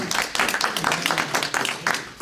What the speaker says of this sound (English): Let's give one more round of applause for our speakers.